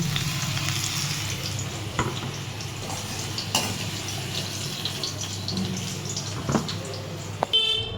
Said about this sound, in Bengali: এখানে আলু ভাজাটা হয়ে গেছে এবার আমি তুলে নেবো